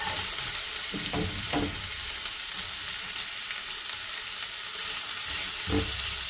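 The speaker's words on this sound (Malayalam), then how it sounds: "സവാള ഒന്ന് വാടി വെക്കാം" Sliced onions frying in hot oil, softening as filling for stuffed chicken, give a steady broadband sizzle with a few louder spatters and stirring scrapes near the start and end, close and alone with no voices.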